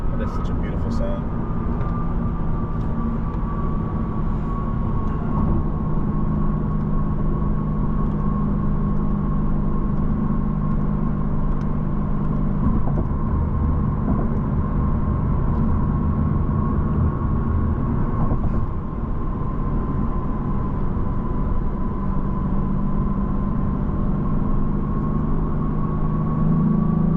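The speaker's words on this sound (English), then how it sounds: "That is absolutely insane how good this car sounds." A 2022 Lexus RC F engine hums in a steady, sustained drone from inside the cabin while driving, holding an even pitch throughout as people talk over it.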